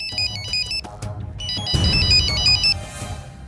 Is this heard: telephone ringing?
yes